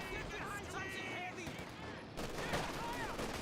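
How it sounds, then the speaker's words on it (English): A burst from an MG42 machine gun in Company of Heroes 2, fired at a Universal Carrier, rattles in the second half amid other battle noise, under continuous commentary talk. "MG42 gets a burst there onto the Universal Carrier."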